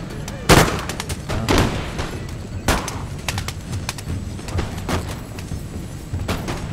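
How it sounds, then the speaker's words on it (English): Cannon and artillery fire in an Empire: Total War online battle against the French, with several sharp booming shots at irregular intervals over a busy, crackling battlefield background. "My artillery pieces up here are still being sniped at, but I'm getting some good shots in."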